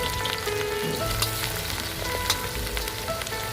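Onions sizzling in hot oil in a home kitchen pan for mixed vegetable curry, a steady dense crackle and hiss filling all 3.6 seconds with a few sharper pops, close and loud with no talking.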